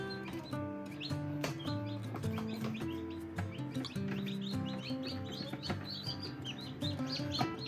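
Newly hatched chicks, including a black Australorp chick, cheep in a steady flurry of high, bright peeps, several birds overlapping close by with no talking.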